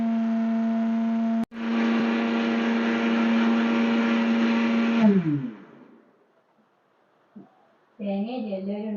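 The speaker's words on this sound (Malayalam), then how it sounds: "മട്ടയവില് വറുത്ത് പൊടിക്കുന്നതാണ് നമ്മൾ കാണുന്നത്." A mixer grinder grinds roasted red rice flakes in a loud, steady whirring drone that runs for several seconds, then winds down and stops, followed by a short burst of talking.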